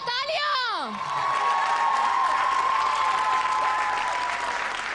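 Studio audience at a televised singing show bursting into loud, sustained applause and cheering after a brief sung or whooped phrase, a dense continuous wash of clapping with scattered shouts.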